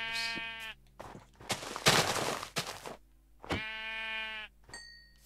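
Sheep in a video game bleat repeatedly in bursts as they are attacked, with a noisy crackling burst in the middle and another short bleat near the end.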